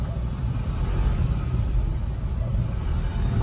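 Steady road traffic in the Philippines rolls past in a continuous low rumble of cars, trucks and buses, heard from inside a moving vehicle with no voices over it.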